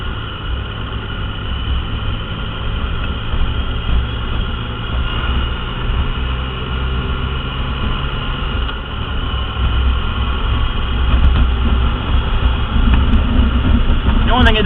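A Triumph Rocket III touring motorcycle engine drones steadily and close while being ridden, its low, even rumble holding throughout with small shifts in pitch as it changes gears.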